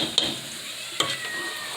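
Onions, garlic and chicken browning in a pot for a green chicken chile white bean soup, a steady soft sizzle with a couple of sharper clicks of a utensil stirring, no talking.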